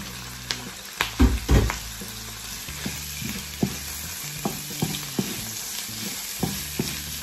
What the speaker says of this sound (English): Fry the chicken until golden brown.